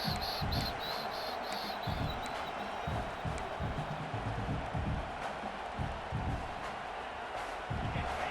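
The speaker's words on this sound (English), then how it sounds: "This crowd bringing the energy and noise early." Stadium crowd at a college football game, Boston College against Oklahoma, roaring in a steady distant wash of noise with scattered whistles and cheers.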